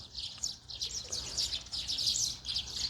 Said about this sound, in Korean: 이렇게 새들이 축제를 벌이는 건 오늘 처음 봤어요.